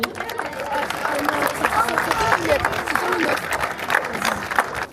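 Audience applause at a foundation stone laying ceremony, a few seconds of scattered outdoor clapping mixed with crowd chatter and a speaking voice.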